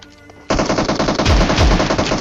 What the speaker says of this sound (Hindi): यहाँ पे मैं उसको एक शॉटगन अगेन कनेक्ट करता हूँ उसके हेड पे